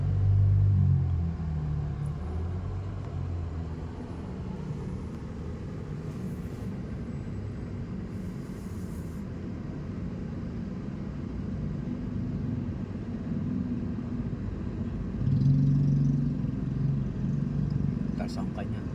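Two large trucks loaded with soil rumble past on a road in heavy traffic, a steady low engine drone swelling louder near the start and again toward the end, with no talk over it.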